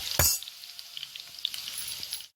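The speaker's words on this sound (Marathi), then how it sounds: "कांदा चांगला फ्राय करते" Onion frying in a pan for misal, a steady close sizzle with a louder burst as it hits the hot oil, then continuous crackling for a couple of seconds with no talk.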